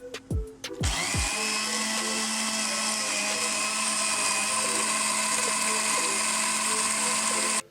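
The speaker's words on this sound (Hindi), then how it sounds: "थोड़ा सा पानी ऐड करूँगी और ब्लेंड कर लूँगी।" A kitchen blender whirs steadily at high speed, pureeing coriander, mint and green chillies with water into a green chutney. A few short bursts of pulsing lead into a continuous loud, even drone that cuts off at the end.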